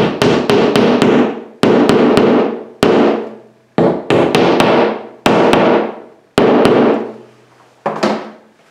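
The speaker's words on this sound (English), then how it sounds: "And then we're just going to take our hammer and tap it." Sharp hammer taps on a drywall anchor ring out close and loud in quick clusters, each strike leaving a brief echoing decay before the next round.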